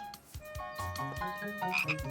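Cartoon frogs croak in a rapid, rhythmic series of low throaty calls, several overlapping, close and clear with a light musical backdrop.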